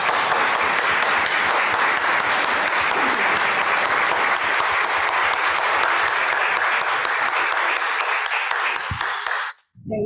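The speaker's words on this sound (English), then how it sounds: "So I'd like to lift up an applause for all of you and particularly our young folks" A church congregation at a confirmation service claps in a steady, dense round of applause lasting about nine seconds, then it stops abruptly, leaving brief quiet before a faint voice.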